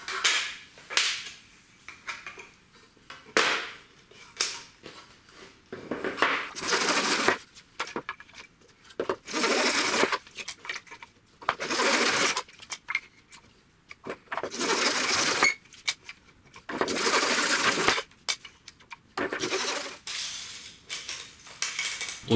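Saw or cutting tool rasping through a piece of a broken model slot-car track guardrail, cutting short sections about 60 mm long in repeated bursts of harsh, high-pitched grinding with brief pauses between strokes, close and fairly loud.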